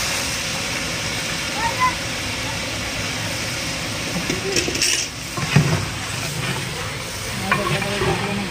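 Spices for a tempering crackle and sizzle loudly in hot oil, with steady frying noise and occasional scrapes and clatters of stirring close by.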